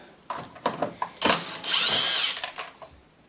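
A power tool spins out 5/16 bolts holding the recoil starter on a Toro TimeMaster mower, giving a few short whirring bursts followed by a longer, loud, sustained drive, all close up.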